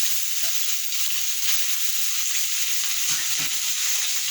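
Washed soya chunks fry lightly in a little oil in a wok, a soft continuous sizzle with occasional scraping stirs from a spatula, close up and without speech.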